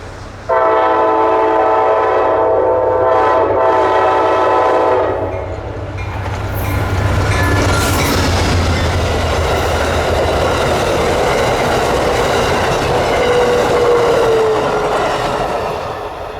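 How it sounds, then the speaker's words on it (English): Amtrak's Carolinian, Train 80, pulls away from its stop in Cary, North Carolina, on a snowy day, sounding a loud, sustained multi-tone horn before the close, rushing roar and rail clatter of the passing cars. "the first train appeared as Amtrak Train 80 tears out of its stop in Cary."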